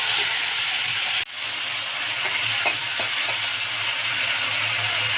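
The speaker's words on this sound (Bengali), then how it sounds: "তো বন্ধুরা, চিংড়ি মাছটা হালকা করে ভেজে নেব।" Prawns frying in hot mustard oil in a wok, a loud steady sizzle and hiss with a brief dip and a few faint stirring taps.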